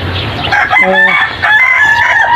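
A gamefowl rooster lets out a loud, close cock-a-doodle-doo crow lasting about two seconds, with faint clucking around it.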